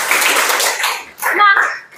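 Classroom children clap together in a quick burst, briefly pausing before a second flurry, close and loud, with young voices mixed in.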